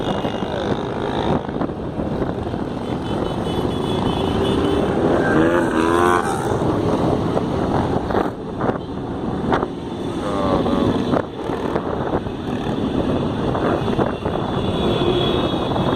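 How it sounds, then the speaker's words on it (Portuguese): A huge crowd of motorcycles rides past at Moto Capital, a very large motorcycle rally, amid congested traffic. Their engines make a loud, continuous roar that swells and overlaps throughout, with no gaps. "É moto demais, é o maior encontro de moto da América Latina."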